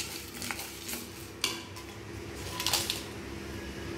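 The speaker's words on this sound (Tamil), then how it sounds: "இதெல்லாம் வந்து நல்லா ட்ரையாகவே ரோஸ்ட் பண்ணிடலாங்க." Spices are dry-roasted in a clay pot, with intermittent scraping and stirring clinks from a utensil over a low, steady background hum.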